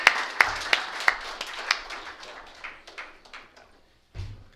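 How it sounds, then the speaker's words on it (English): A small group claps for a speaker at a recovery meeting, with distinct individual claps at first, then thinning out to scattered claps before ending, followed by a brief low thump. "Let's give him a round of applause."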